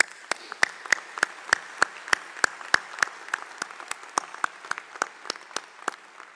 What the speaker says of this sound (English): Please join me in applauding the faculty, staff, and preceptors who have so ably prepared and supported our graduates.